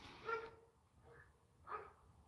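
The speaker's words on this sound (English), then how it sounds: "I think a big dog's just turned up by the sound of it" A big dog barks somewhere in the background, a few faint, spaced barks heard from a distance over a quiet room.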